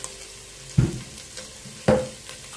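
Onion hits a hot pan with oil twice in quick succession, each drop bursting into a loud close sizzle that fades into softer frying.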